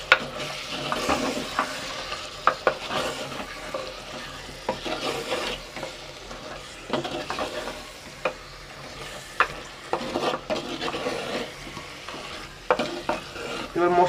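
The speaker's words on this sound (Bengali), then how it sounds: "এটা দিয়ে আমি আবার 5 মিনিট ফ্রাই করব" Powdered masala of red chili, coriander, cumin and turmeric fries in oil for a spicy crab curry, a soft continuous sizzle punctuated by sharp, irregular clacks of a spoon stirring against the pan.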